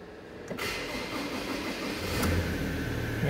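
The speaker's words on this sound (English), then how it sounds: "i-back natin itong Ford Ranger" Ford Ranger diesel pickup engine running steadily while the truck backs up, a close, continuous mid-pitched engine rumble that swells slightly toward the end, with no talking.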